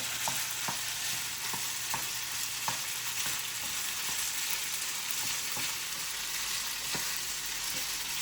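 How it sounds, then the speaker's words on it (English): Guanciale fries in a pan with a constant dense sizzle, and soft stirring taps come through now and then over a steady crackling bed. "I can see immediately all that fat from guanciale start glistening"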